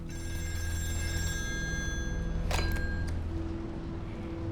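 A telephone rings steadily with an electronic bell tone in the horror video game Still Wakes The Deep, set on an oil rig, over a constant low mechanical hum, with a brief burst of noise midway.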